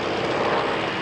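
Loud, continuous drone of a powerful Hawker piston-engine aircraft flying over an airshow, a dense and even engine roar with no voices over it.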